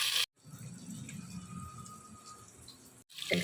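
Water streams steadily into a cooking pan of frying potatoes and onions for a Bengali rice dish, a continuous close splashing hiss lasting about three seconds between brief silences.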